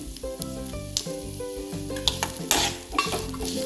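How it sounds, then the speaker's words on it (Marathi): Fenugreek seeds and curry leaves hit a pan of dal on low heat, giving a bright crackling sizzle with spoon clinks and stirring scrapes, rising in a sharp burst midway. "त्यामध्ये पाव वाटी मेथी दाणे घातले आणि थोडीशी कढीपत्त्याची पानं घातले"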